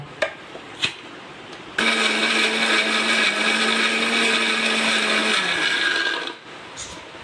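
A kitchen blender grinds raw mango pieces into a paste for mango juice, roaring loud and steady for several seconds before winding down, with a couple of knocks before it starts.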